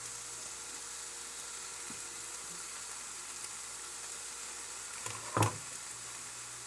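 Chopped old onion fries in a pan for an omelet, giving a steady, close sizzle throughout, with a single sharp clatter of stirring near the end.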